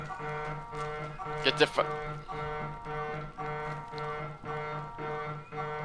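An alarm blares in the horror video game Erie, a steady droning tone pulsing in even repeated bursts, with a player swearing over it.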